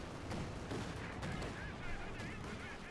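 Heavy gunfire from a Flak Panzer anti-aircraft vehicle in a Company of Heroes 2 battle, with dense, continuous rattling bursts and booms layered over a busy combat soundscape.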